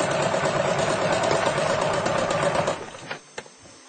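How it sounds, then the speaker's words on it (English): A sewing machine stitches steadily along the edge of fabric for a table runner, running in one continuous close whir before stopping and leaving a few light clicks. "And now I will do the stitching, millimeter and a half from the edge."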